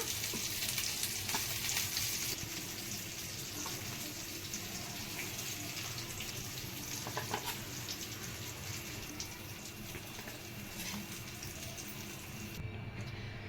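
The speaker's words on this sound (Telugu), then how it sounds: "ముక్కని రెండు వైపులా పర్ఫెక్ట్గా ఫ్రై అయిపోయిందండి" Fish pieces fry in hot oil for a fish biryani, a loud continuous crackling sizzle that holds steady throughout, with faint running-water sounds mixed in and no talking.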